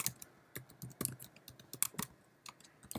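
Typing on a computer keyboard at a server terminal: irregular bursts of sharp key clicks with short pauses between, close and fairly quiet, with no talking.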